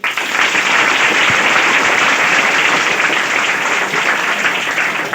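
An audience at a coaching centre event gives loud, sustained applause that holds steady for the full five seconds, with no speech over it.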